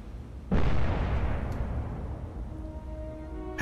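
A warship launches a VLS missile in the Cold Waters naval game, starting with a sudden loud boom and then a long roaring rumble that slowly fades, heard alone without talk.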